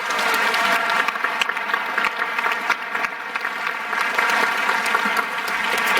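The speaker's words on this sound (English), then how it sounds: "So a nice round of applause." Graduation crowd applauding a high school choir, broad continuous clapping from a large audience, steady and fairly loud throughout.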